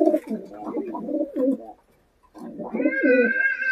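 A Murshidabadi pigeon coos close by, giving deep rolling coos in two bursts split by a short pause, the second ending in a higher drawn-out note.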